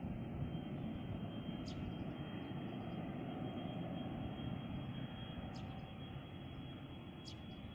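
A Cardig Air Boeing 737-300F cargo jet takes off from runway 17 at Sultan Iskandar Muda International Airport in Aceh. Its engines give a sustained broad roaring rumble that stays fairly even and somewhat distant throughout.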